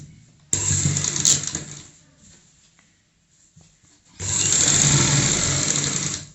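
A sewing machine runs basting stitches on a young girl's frock in two bursts, a short run followed by a longer steady whir after a quiet pause.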